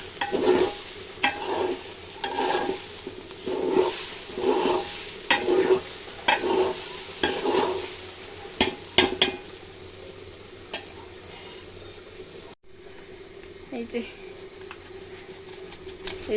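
Biryani cooking in a pot, with rhythmic scraping stirs and a light sizzle close by for the first half, then a quieter simmering hiss as someone talks over it.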